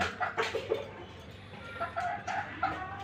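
Chickens clucking close by in short repeated bursts, mixed with higher cheeping, heard alone without any talking.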